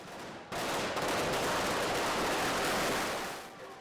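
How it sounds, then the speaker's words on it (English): Fireworks crackle and bang during a Navratri celebration as a demon king effigy burns, a dense, continuous rapid crackling barrage that starts abruptly and holds steady for several seconds, loud and unbroken by voices. "It must be the deafening sound of the fireworks that affected her."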